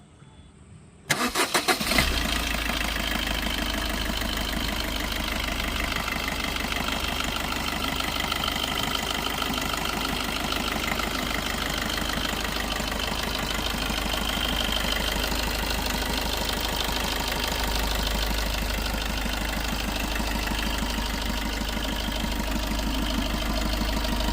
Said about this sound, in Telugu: ఒకసారి ఇంజిన్ అయితే స్టార్ట్ చేస్తున్నాను ఎలా ఉంది ఏంటన్నది అయితే మీరు ఒకసారి సౌండ్ అయితే గమనించవచ్చు